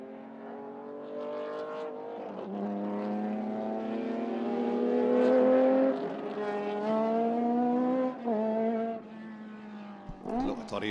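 Historic race cars, including a Formula Atlantic, rev on a circuit at a historic motor festival, one engine note climbing and falling in long sweeps. The sound is moderately distant, with a commentator talking over it.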